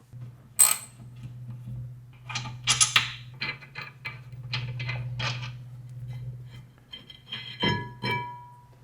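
A 15mm socket and ratchet working the rear caliper bracket bolts on a 2017-2022 Kia Sportage: scattered close metallic clicks and clinks, a louder clank near the end, over a constant low hum.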